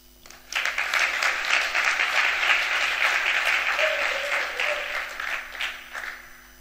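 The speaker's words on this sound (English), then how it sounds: "Give him some claps." An audience at a Python conference talk applauds a speaker, a dense, steady burst of clapping that holds strong for several seconds before thinning out near the end.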